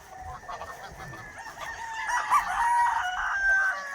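A goose honks and calls repeatedly, loud and close, the harsh cries growing stronger toward the end over faint outdoor background.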